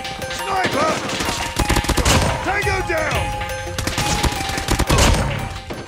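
Gunfire from the Call of Duty Mobile video game plays on a phone screen recording: loud rapid bursts and single shots over game music and effects, with brief in-game voices.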